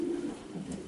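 Pigeons of an old racing line coo softly in a loft, a brief low burbling call.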